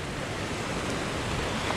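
Muddy river water rushes after bad weather in Jamaica, a dense, steady roar of churning flow that fills the scene, heard alone and close at hand.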